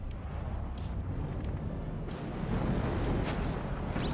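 Missile fire traded between a Marder infantry fighting vehicle and a tank in the WARNO strategy game, heard as a continuous low rumbling barrage of distant booms and blasts that swells louder in the second half.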